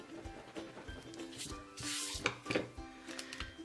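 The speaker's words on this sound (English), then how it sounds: "we're just going to lightly erase that line" A pencil eraser rubs lightly across a handmade ink-blended Christmas card, giving short, close scratchy strokes in uneven bursts with small pauses between them.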